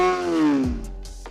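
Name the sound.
Honda CBR 600 F4i motorcycle engine revving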